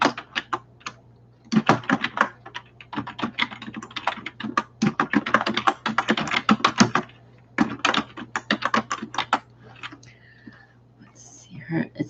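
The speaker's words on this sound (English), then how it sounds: "I'm just going to type in the name" Rapid bursts of typing on a computer keyboard, close and fairly loud, coming in uneven runs of clattering keystrokes with short pauses between, over a steady low hum.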